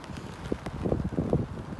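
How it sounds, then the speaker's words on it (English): Strong wind gusts of around 60 miles an hour buffet a day-ticket carp fishing lake in the rain, a steady loud roar and rustle with surging bursts close to the microphone. "We've got 60-mile-an-hour gusts."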